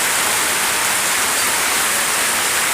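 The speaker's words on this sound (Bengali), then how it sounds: "সবসময় যদি এরকম ধরনের বৃষ্টি হয়" Heavy rain pours down over a village, a dense, constant hiss of water hitting roofs and ground, loud and unbroken throughout with no voices.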